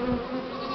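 A swarm of honeybees hums in a dense, continuous drone close by, steady and loud with no voices over it.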